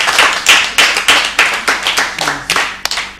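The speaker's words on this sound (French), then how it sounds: "On applaudit très très très fort pour la candidate" Audience at a school spelling contest applauds a contestant with brisk, loud, continuous clapping close to the microphone, lasting about three seconds.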